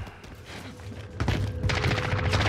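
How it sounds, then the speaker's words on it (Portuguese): Gunfire in Call of Duty Warzone, a dense burst of rapid shots that grows louder partway through and keeps rattling steadily to the end. "tiro da ponte"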